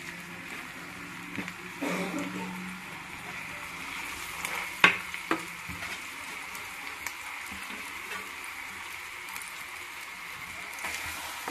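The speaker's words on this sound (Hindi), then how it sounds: "देखिए, हम सारे मिला ले रहे हैं अच्छी तरीके से।" A spoon stirs mashed boiled potatoes into fried spices in a pan, with a soft, low sizzle and a few scraping and clinking knocks against the pan.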